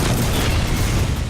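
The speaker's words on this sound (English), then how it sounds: "Rockets outgoing." Rocket launches and blasts in Gears of War 4 combat, a dense, continuous barrage of deep booms and rumbling explosions with heavy low-end, loud and sustained throughout.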